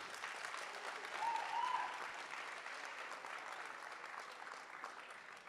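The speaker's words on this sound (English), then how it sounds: "Can we clap hands as he's coming to the stage?" An audience at an education department conference hall claps continuously, a soft, even wash of many hands heard from a distance, holding steady throughout.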